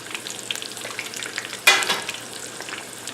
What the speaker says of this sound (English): I'm just going to throw these inside the fryer